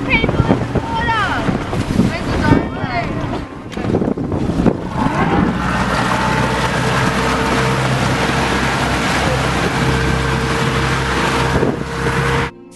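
A fisheries boat approaches at speed on open water, its engine droning steadily under heavy wind buffeting on the microphone and sea noise, with a few shouting voices early on.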